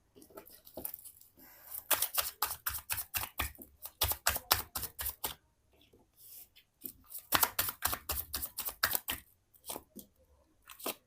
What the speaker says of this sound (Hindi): चलिए मैं कार्ड शफल कर लेती हूँ।